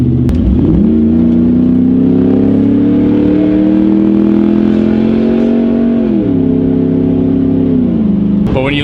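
A Ford F-150 with a 6.2-liter V8 engine revs steadily and loudly, its deep droning tone rising slowly and then dipping as the revs drop, with a brief change near the end.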